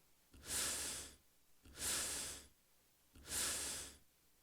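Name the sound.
inhale sound variations for emote in a video game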